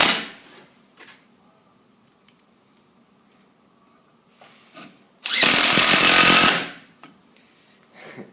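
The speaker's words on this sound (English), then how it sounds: "no dramas driving that countersunk screw straight in" A 10.8V impact driver drives a countersunk screw, giving a short whir, then a loud burst of rapid hammering impacts for about a second and a half, close up, followed by quieter handling clicks.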